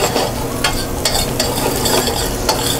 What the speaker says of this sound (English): Heating up a pan, a little bit of oil. We're gonna saute this.